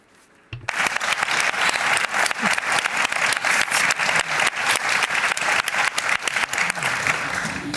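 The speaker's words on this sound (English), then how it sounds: "I'd just like to say that this applause goes back to you" Loud applause from the crowd at a company shareholders' annual meeting bursts in after a brief quiet moment and carries on steadily, a thick sustained roar of many clapping hands with sharp individual claps standing out.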